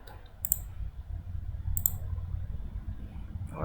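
Two sharp mouse clicks about a second apart, close and crisp over a low background hum, made while setting up a Facebook login in a web developer dashboard.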